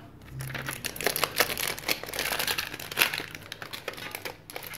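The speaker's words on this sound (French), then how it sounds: "Excusez-moi si ça fait du bruit. C'est les plastiques." Plastic packaging crinkles and crackles in a steady, close stream of irregular rustles while purchased colouring supplies are unwrapped, with no talking.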